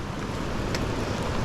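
Floodwater rushing through a city drainage culvert during a severe flood, a steady loud broadband roar of churning water with wind buffeting, continuous and close.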